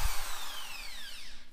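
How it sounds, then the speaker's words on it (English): A Makita power drill whines at high speed, its pitch slowly falling as it spins down, loud and close with a dull low rumble beneath and no talking. "I have my Makita drill."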